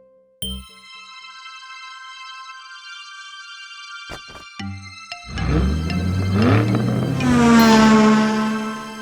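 A cartoon race car revs up and accelerates after a run of bright chimes and dings, its engine note rising and growing louder over the last few seconds amid playful effects.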